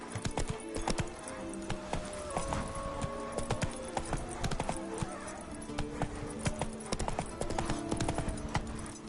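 Roach, a horse in the Witcher 3 video game, gallops with a fast, steady clip-clop of hooves, close and continuous, with a faint whinny mixed in.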